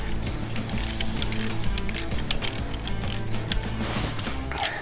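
A ratchet wrench works loose spark plugs on a 1996 Ford Econoline E-series van, with steady, rapid clicking and mechanical ratcheting close up and without a pause.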